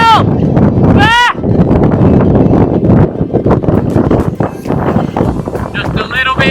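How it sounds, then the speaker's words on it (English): A strong Mistral headwind of around 90 km/h buffets the microphone of a touring cyclist near Avignon in a loud, continuous roar, with brief voice sounds cutting through the rumble. "The Mistral winds were blowing all the way to Avignon, headwind, 90 km/h winds on the front and side"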